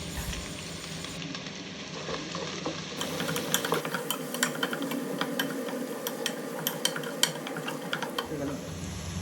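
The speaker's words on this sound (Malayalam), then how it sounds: "കറിവേപ്പില ചേർത്ത് കൊടുത്ത് നന്നായി ഒന്ന് ഇളക്കുക" Onions, tomatoes, green chilies and curry leaves are stirred in a pan for kothu parotta, giving a continuous close scraping and rattling with a steady sizzle underneath throughout.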